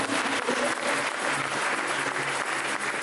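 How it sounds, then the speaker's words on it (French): A church congregation applauding during a service, a steady, close wash of many hands clapping for three seconds with no voices rising above it. "Est-ce que nous pouvons acclamer pour lui?"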